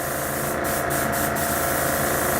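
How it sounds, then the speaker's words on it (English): An airbrush-style spray gun is sprayed into the air to clean it, giving a loud, continuous hiss with four brief dips near the start and no talk. "I'll heighten the pressure on the single action anyway, and just spray away."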